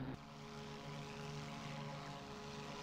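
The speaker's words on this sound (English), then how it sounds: "I can hear something. I can hear a plane," Propeller aircraft engine in the WWII flight sim IL-2 Sturmovik 1946, a steady droning hum holding at an even level throughout, with no talking.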